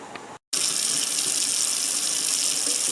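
Tap water runs hard into a sink while cooked shirataki noodles are rinsed, a loud, steady rushing gush that starts after a brief dropout and continues without a break.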